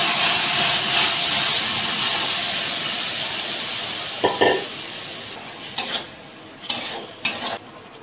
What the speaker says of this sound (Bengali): দিয়ে ডালটাকে আমি দিয়ে দিচ্ছি।